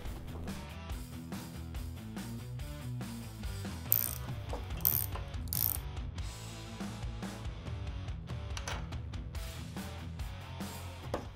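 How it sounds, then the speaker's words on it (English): A ratchet clicks rapidly in repeated bursts as a 36mm socket works loose the axle cone nut on a Harley Davidson rear wheel, close and fairly quiet with faint metallic knocks. "So I'm using a 36mm socket to remove the cone nut."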